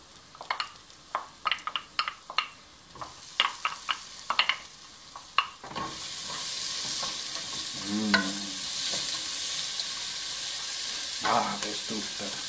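Garlic and pork cracklings fry in a pan: after a few seconds of intermittent clinks and stirring taps, a loud steady sizzle takes over and holds to the end, with a brief voice partway through.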